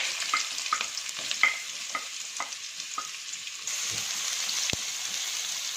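Onions sauté in coconut oil for a Kerala-style egg roast, a soft crackling sizzle with repeated sharp spoon taps and scrapes against the pan, close and moderately quiet, with no voices.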